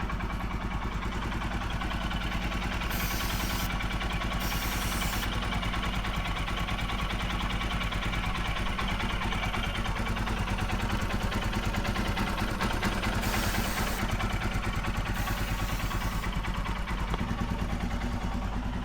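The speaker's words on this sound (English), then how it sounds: "the idle of the bike will go higher or lower depending on, but it should stay the same idling" A Royal Enfield Himalayan 411 single-cylinder motorcycle idles steadily at close range, a constant low thrum with light mechanical clatter. It runs evenly for the whole stretch, with brief hissing bursts of spray now and then and no voices.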